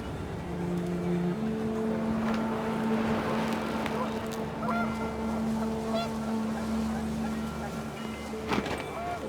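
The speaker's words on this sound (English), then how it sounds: "The wind picked up, and panicked geese appeared and quickly went." Panicked geese honk in the video game What Remains of Edith Finch, their calls sounding over a windy, busy game soundscape with a sustained low tone and a voice narrating on top.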